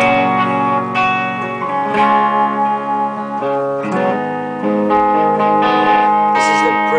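ESP LTD MH-100QMNT electric guitar played through an amp with a clean tone and light reverb, a run of ringing chords and single notes that sustain and overlap, loud and close, with no talking.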